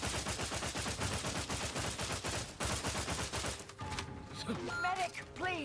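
Gunfire in The Outer Worlds 2 video game: rapid sustained automatic bursts that crackle steadily at close range before breaking off, followed by some scattered mechanical game sounds.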